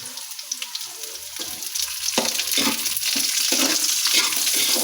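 Onion frying in a pan, a steady broadband sizzle that swells louder and thicker after the first couple of seconds, with a few soft knocks and clinks early on, close up and without talk.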